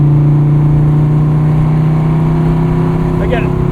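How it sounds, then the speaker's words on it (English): A Dodge Viper SRT-10's V10 engine holds a loud, steady droning hum from inside the car, with a quick upward rise in pitch near the end. "This V10 is so quick to rev."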